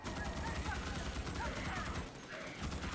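A deployable turret weapon fires a continuous rapid burst in Starship Troopers Extermination, a dense rattle of gunfire held at a steady level throughout.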